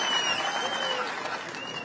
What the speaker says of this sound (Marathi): साहेबांसाठी सगळ्यांनी टाळ्या वाजवाव्यात।